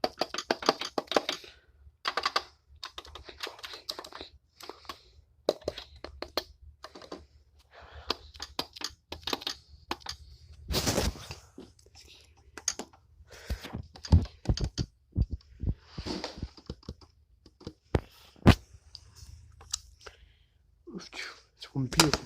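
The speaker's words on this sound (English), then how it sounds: "Let's listen to see how the pads feel." A saxophone's keys and pads being pressed while it is handled out of its case, giving soft irregular clicks and taps near the microphone, some in quick bursts, with a few louder thumps and a voice speaking between them.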